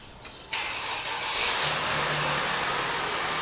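A Mercedes E 350 engine cranks and fires up, then settles into a steady, fairly loud idle with a smooth low hum and rushing air noise.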